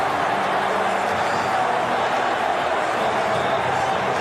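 A sellout football crowd at the Swansea.com stadium roars after a Championship goal by Swansea, a dense, steady wall of cheering with no lull, loud and continuous throughout.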